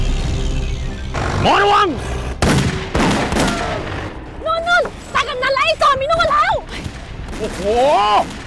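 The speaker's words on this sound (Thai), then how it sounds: "ยิงกันสลัดเลยนะ" Gunfire rings out in a chase scene, several sharp shots scattered among whooshing, whistling ricochet-like effects over eight seconds, loud and close, with voices shouting between the shots.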